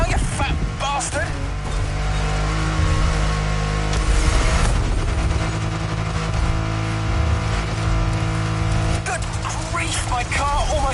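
A car engine roars steadily at full speed in the video game The Crew Motorfest, with game engine and tire noise continuing throughout and a voice speaking over it at times.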